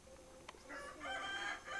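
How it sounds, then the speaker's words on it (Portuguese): A rooster crows once in a village in the Amazon, a drawn-out, wavering call heard at moderate distance, fairly faint, with no talk during it. "senão o galo vai cantar mais alto que você"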